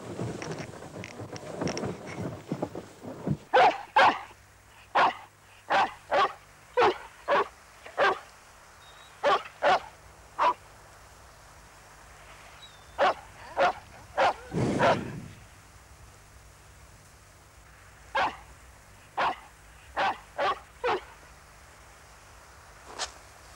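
A dog barks repeatedly at bison in a European forest, loud sharp barks in uneven bursts with pauses, over a faint outdoor background.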